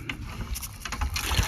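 A hand pump for poor families in Cholistan is worked by hand, producing a few rhythmic mechanical squeaks and clunks against water and outdoor noise, fairly near.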